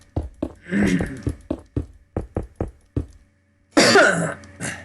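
Several short, sharp coughs from a person in an uneven series, close and loud, with a longer throaty fit near the end.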